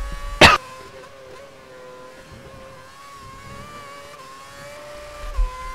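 A Formula 1 race car in the F1 2011 video game at Montreal, its engine holding a steady high-pitched whine and over-revving, with a brief loud burst near the start and another near the end.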